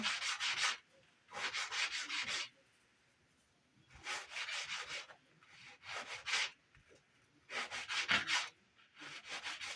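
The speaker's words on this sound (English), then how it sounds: "And we have a piece of trim. I'll give it a quick sand." A wooden trim piece for a dollhouse is sanded by hand in bursts of brisk back-and-forth rasping strokes, heard up close, with quiet pauses between bursts.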